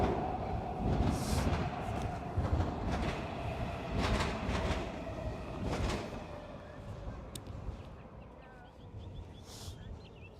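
A train rolls past outdoors near woods in Suitland, Maryland, its steady rumble and wheel noise holding loud and continuous throughout, with faint birdsong over it.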